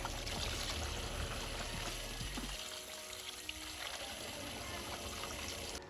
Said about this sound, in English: Rinse it down nicely, and all this dirt is coming off.